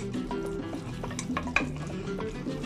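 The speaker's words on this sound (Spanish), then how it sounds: "Ahora lo vamos a remover todo, a revolver, que se integre todo, que se mezcle" Cream cheese filling with ham and leek stirred in a bowl, a steady soft scraping and churning with a few brighter clicks of the utensil against the side, close and continuous with no talking.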